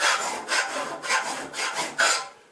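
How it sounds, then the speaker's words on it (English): A fine textured file rasps along the wooden edge of a door, with six or seven steady back-and-forth strokes that sound close and even. "I'm going to use a nice fine textured file which will give me good control"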